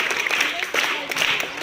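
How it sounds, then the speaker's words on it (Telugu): Audience at a school cultural programme claps in a brief, dense burst of applause, lively and close. "వీళ్ళందరూ క్లాప్స్ ఇద్దాం"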